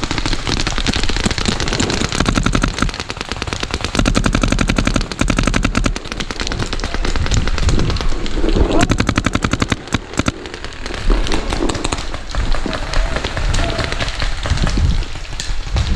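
Scenario game markers fire in dense rapid bursts on an outdoor field, a continuous loud rattle of shots with brief gaps, close by and dominating throughout.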